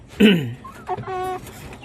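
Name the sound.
sick chicken clucking in the coop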